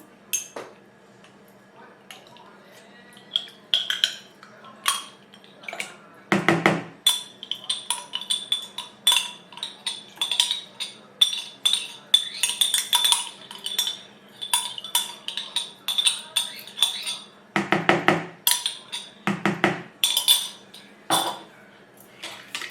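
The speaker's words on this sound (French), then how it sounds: "Le fouet et vous fouettez ça pour que le yaourt nature soit bien mélangé au lait entier" A metal whisk beats plain yogurt into whole milk in a bowl, a steady run of quick clinking, scraping strokes close up, broken by a few louder knocks against the rim.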